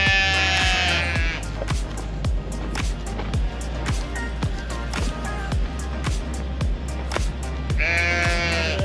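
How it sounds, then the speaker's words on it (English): Sheep bleat as a flock crowds out of a barn stall on a homestead farm, with loud calls at the start and end over a steady rhythmic mechanical thumping. "all the sheep start piling out of the one stall because I had the other side blocked out"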